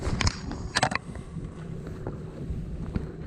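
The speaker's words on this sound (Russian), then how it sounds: "Вытащил якорь, завожу мотор." A fishing boat's outboard motor runs with a steady low drone on frosty Lake Onega in Karelia, partly buried under gusty wind noise, with a few knocks and clunks near the start.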